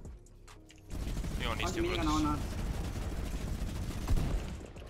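Rapid, continuous minigun fire in a video game duo cash cup match, a dense sustained roar starting about a second in and running to the end, with players talking over it.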